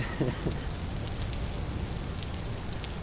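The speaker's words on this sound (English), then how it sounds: "The rain in this game is so like nice as compared to like something like Minecraft." Steady rain in the video game Vintage Story, a dense, even hiss of falling drops that holds at the same level throughout, with no voices.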